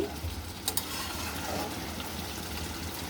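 Shrimp sizzle steadily in a pan of hot oil for shrimp bhuna, a soft continuous frying hiss with a couple of faint clinks near the start, close and quiet.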